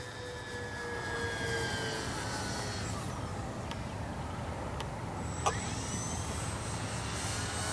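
A Dynam P-61 Black Widow RC plane with its gear retracted passes overhead, a steady, moderately loud engine drone held throughout, with brief sharper high-pitched whines breaking through midway.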